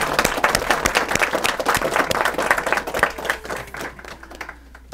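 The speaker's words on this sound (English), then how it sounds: "Let's give him applause and thank him." An audience at a spiritual talk held in a private home applauds, a dense, close burst of many hands clapping that thins out and fades over the last second or two.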